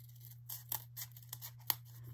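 Scissors snipping around glitter foam glued onto corrugated cardboard, a handful of short crisp cuts at irregular intervals, close and quiet over a faint steady hum.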